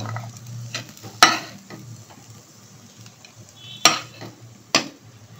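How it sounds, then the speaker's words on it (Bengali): Sweet corn with chili flakes and black pepper stirred in a pan for a sweet corn tomato pasta, a quiet sizzle broken by a few sharp metallic knocks of the spoon against the pan. "সুইট কর্নের মধ্যে চিলি ফ্লেক্স আর ওই ব্ল্যাক পেপারটা দেওয়ার পরে একটুখানি নেড়ে নিয়ে"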